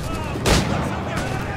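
Cannon fire from Spanish gunboats in the naval combat of the video game Assassin's Creed IV Black Flag: a single heavy boom bursts out mid-clip over a steady din of battle noise.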